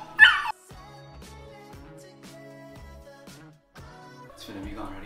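A pet dog, frightened by someone in a mask, gives a sharp yelp and then a run of thin, tonal whimpers, close by and clear, with a voice speaking at the end.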